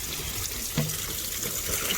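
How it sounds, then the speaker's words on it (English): A garden hose sprays water over worms in a hot compost pile, a steady rushing hiss of running water that continues throughout, close by and fairly even. "so I'm just going to hose it down"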